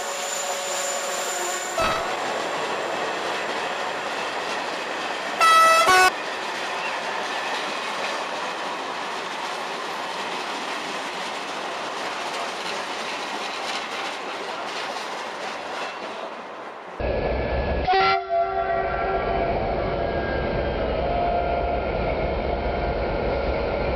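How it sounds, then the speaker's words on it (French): Train hauled by a 68000-series diesel locomotive rolls past continuously with rail clatter, wheel noise and brief horn blasts near the start and toward the end, loud and close. "Il donnait des coups de klaxon"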